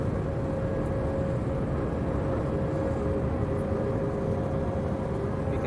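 A British Airways jet departing London Heathrow for Marseille, heard from inside the cabin during takeoff as a loud, steady engine roar with a constant high whine running throughout.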